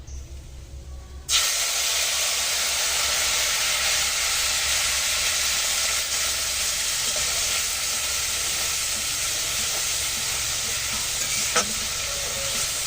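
Whole cumin, turmeric and spice paste frying in oil for a soybean and potato curry, with a loud hissing sizzle that bursts in after a quieter moment and holds steady, with an occasional faint scrape close by.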